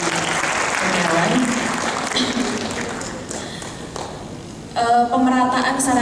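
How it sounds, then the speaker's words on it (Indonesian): An audience at a public consultation forum in Malang applauds, with sustained clapping that slowly fades as a voice begins speaking over the tail end. "Tepuk tangan untuk Pak PJ Kurniawan."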